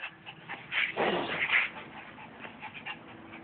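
A rescue puppy gives high, thin whimpers and whines in short bursts, close and fairly loud, with a few soft yelps over a quiet room.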